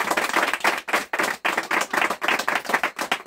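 During a house prayer gathering, people clap hard in a quick uneven rhythm of sharp strokes that break into short bursts with brief pauses between them.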